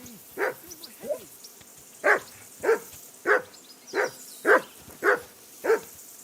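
Repeated barking from a dog in Kingdom Come: Deliverance II: about nine sharp, evenly paced barks, loud and close, over a quiet game background.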